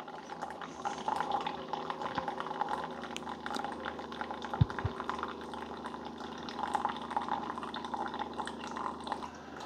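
Keurig single-serve coffee maker brewing into a cup: a steady, close hiss of hot water with pumping and trickling into the mug, plus a couple of brief clicks near the middle, with no talking.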